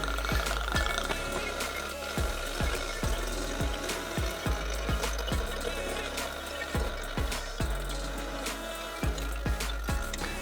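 Royal Navy rum glugging and splashing from a flagon into bottles, a steady liquid pour with repeated gurgles and small knocks, close and fairly loud, with no talk over it.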